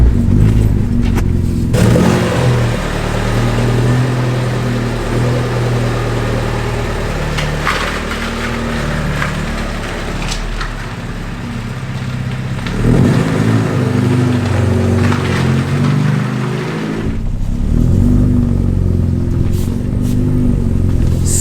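An Alfa Romeo GTV drives along with a steady, close engine drone that rises and falls through gear changes, with no voices.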